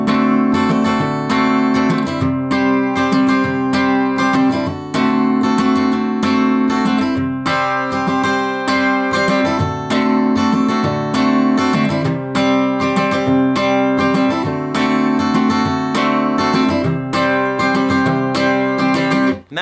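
Acoustic guitar strumming the pre-chorus of a song, a steady, full chord rhythm played close and loud throughout with no voice over it.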